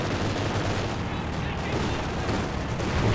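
Continuous small-arms fire and explosions rumble through a Company of Heroes 2 battle, a dense, steady wall of gunfire with a voice talking over it.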